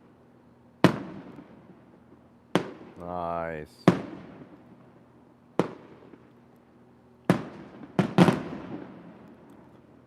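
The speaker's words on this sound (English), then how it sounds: "Starting our fireworks here." Independence Day fireworks at nightfall, several sharp booming bursts spaced seconds apart with a rising whistle of a launch between them, and a person speaks briefly.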